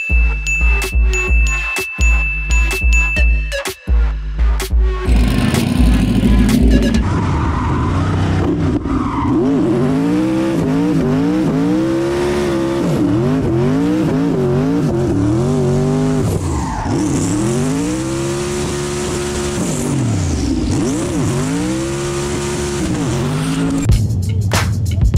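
A 710hp Ferrari F8 Tributo and Ken Block's Hoonicorn launch in a drag race with loud revving engines and squealing tires, then roar on with repeatedly rising and falling engine pitch as they shift through gears.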